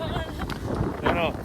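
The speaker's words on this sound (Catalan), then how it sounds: "No, fa molt fred, fa molt vent," Strong wind gusts over a ski slope during a snowstorm, a steady broadband roar with voices talking over it.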